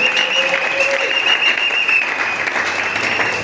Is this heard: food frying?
no